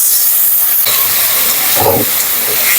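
Water poured onto a ground ginger, cumin and coriander spice paste in a hot pan bursts into a loud steamy hiss midway, over a steady background of sizzling.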